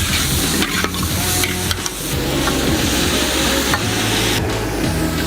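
Peas, celery and onions stir-frying in a big wok, with a loud continuous sizzle and repeated scraping stirs close up, no voices over it.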